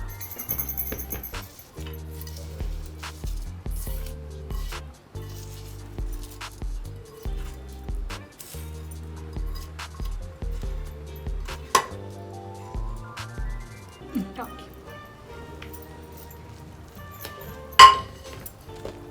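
Mashed food is mixed with a tempering in a bowl, a spoon knocking and clinking against the dish in a repeated rhythm over quiet background, with a sharper clink near the end.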